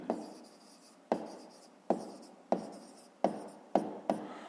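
Handwriting on paper during a fifth-grade maths exercise, with short strokes and taps repeating at a steady, uneven pace, close and faint.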